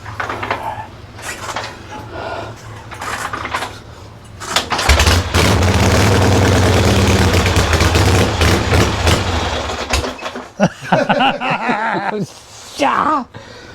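A 1970s Harley Shovelhead motorcycle kicked over and catching, then running as a loud, steady, chugging engine for several seconds before dropping off, with voices talking around it at the start and end.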